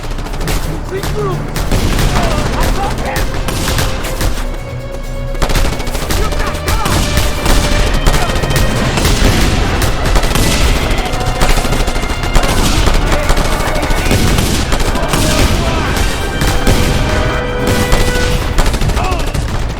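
Dense, loud, continuous gunfire in Just Cause 2, rapid machine-gun bursts and booms during a sniper fight, with voices talking over it.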